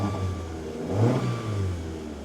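An engine of a cheap Pontiac Grand Prix at a car auction lot runs close by, its low drone swelling briefly as the throttle is revved and then settling back toward idle, with no voices.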